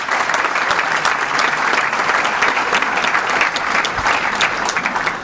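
Loud, sustained applause from guests at a police awards luncheon, a thick even wash of many hands clapping close by with no break or talk.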